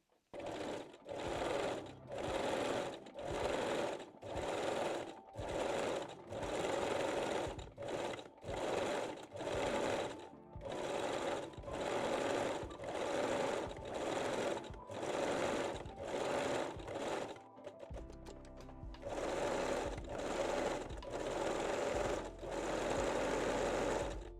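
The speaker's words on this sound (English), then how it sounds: "Then fold the elastic and stitch the waistline again." A sewing machine stitches an elastic waistline on lace-back Brazilian panties, running in steady repeated bursts of rapid mechanical stitching, with one rougher stretch near the end, loud and close with no talk.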